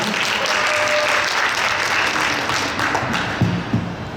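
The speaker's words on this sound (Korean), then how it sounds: "박수로 들어보겠습니다" Theatre audience at a talk concert for the play Bea breaks into steady, dense applause that fills the room at close range, holding level for about four seconds before a few sharper claps stand out at the end.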